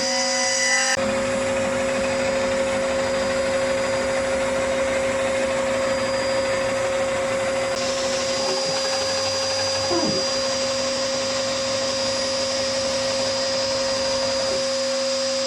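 A CNC spindle on a 4th rotary axis cuts a workpiece's corners with a steady loud tonal whine over a broadband grinding hiss, shifting in pitch partway through, with a few brief scrapes of tool contact.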